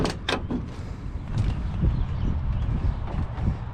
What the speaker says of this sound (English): That door opens pretty smooth. Doesn't latch so good.